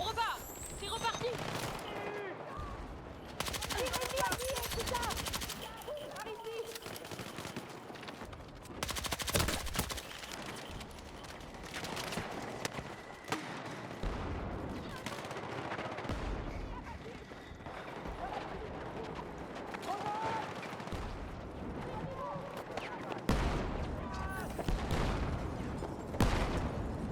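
Gunfire in the video game Battlefield 6, repeated shots and bursts mixed with battlefield clatter throughout, heard under frequent shouted voice chatter.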